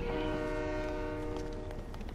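A video game train rolls along with its horn sounding, a long unbroken tonal blast held over a steady rail rumble for the whole stretch, loud and close.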